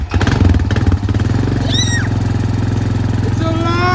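A cheap four-wheeler ATV engine sputters to life and settles into a loud, fast idle nearby, with a high whining squeal rising over the throbbing exhaust pulses.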